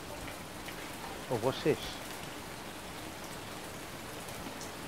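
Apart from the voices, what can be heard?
rain falling, from a survival video game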